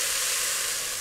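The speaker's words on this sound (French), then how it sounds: "On va les faire revenir comme ça assez rapidement pendant 2-3 minutes." Parsnips sauté quickly in a pan with a dense, even sizzle that stays loud and close for a brief moment.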